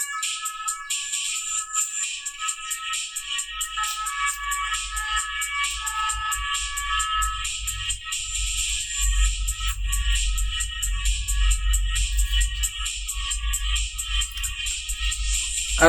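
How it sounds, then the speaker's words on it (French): Electronic ringtone melody repeating steadily in the background, bright and continuous, with a low rumble underneath throughout. "alors la sonnerie qu'on peut entendre derrière"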